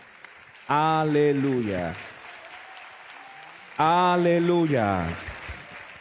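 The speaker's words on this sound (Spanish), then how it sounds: "Y si gusta puede aplaudir en nombre del Señor" A church congregation claps steadily as a continuous rain-like patter while a voice sings over it twice, with brief pauses between the phrases.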